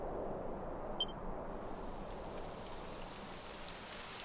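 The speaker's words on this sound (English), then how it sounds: "It would have to go and start raining, wouldn't it?" Steady rain falls in the video game Dragon Quest XI, a soft continuous hiss of drops on the ground that fills the scene evenly from start to finish, with a single faint chime near the start.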